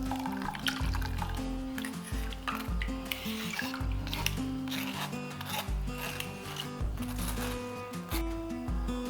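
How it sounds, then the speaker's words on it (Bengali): Fish-recipe pulp being rinsed with a little water by hand, giving close wet squelching and rubbing sounds with splashy swishes in an uneven rhythm, no speech. "এটাকে আরো একবার ধুয়ে নেওয়ার জন্য সামান্য একটু জল ব্যবহার করছি"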